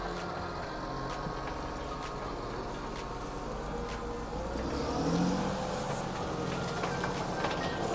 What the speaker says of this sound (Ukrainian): Ну і газу до відказу.